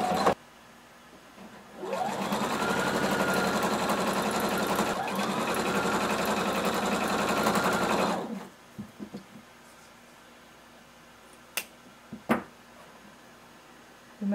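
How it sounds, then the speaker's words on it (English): A sewing machine runs a continuous stitch along the top edge of a fabric fringe for about six seconds, starting and stopping cleanly, followed by a few faint clicks and handling sounds. "we're going to sew along the very top edge of our fringe"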